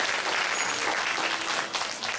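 A crowd applauds a school principal being welcomed at a township music-contest award ceremony, a continuous, fairly loud spread of clapping that thins out near the end, with no talking.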